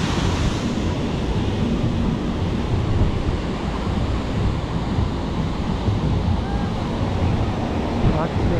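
Rough sea waves roll in at Praia do Francês beach in Marechal Deodoro, Alagoas, making a loud, unbroken roar of surf mixed with wind buffeting the microphone.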